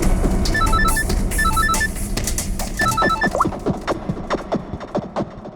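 A telephone rings in a tense police-station scene, its electronic trilling tones repeating in bursts over a busy, layered background of music and noise.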